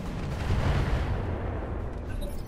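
Turrets fire in the mech video game Roguetech, producing a heavy, rumbling barrage of overlapping booms that forms a continuous loud low roar and slowly thins toward the end.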